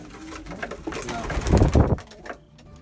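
Pigeons in a Virginia Beach loft coo in soft, throaty, repeated calls close by. Faint rustling sounds underneath, and the calls swell louder near the end.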